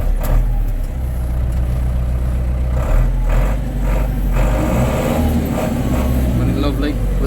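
A Case 885 XL tractor engine idles in a steady, loud low rumble up close, with a few faint clicks and knocks over it.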